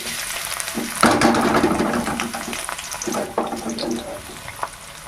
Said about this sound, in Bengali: এখানে তেলটা গরম হয়ে গেছে এবার আমি দিয়ে দেবো একটা বড় সাইজের পেঁয়াজ কুচি